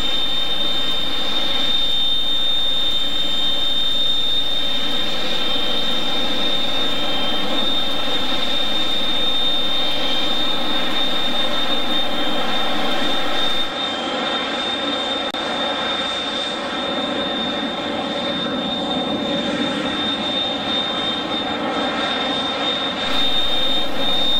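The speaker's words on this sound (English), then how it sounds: "To know that I could still fly jet aircraft." Steady roar of a Fouga 170 jet's engine in flight, heard from within the aircraft as a continuous loud drone with a high whine, running unbroken throughout with no talking.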